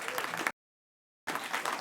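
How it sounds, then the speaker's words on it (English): Brief bursts of applause from a crowd at a House Democrats event celebrating Medicare's 50th anniversary, broken by a short stretch of total silence before the clapping resumes. "Let's give him a round of applause"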